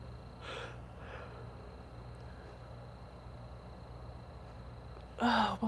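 A person yawns during a home live stream, with breathy, drawn-out exhales and soft gasps, quiet and close, over a steady low hum.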